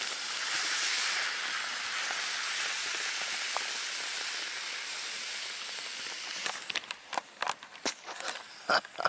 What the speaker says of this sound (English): I put a little wine in there to deglaze the pan.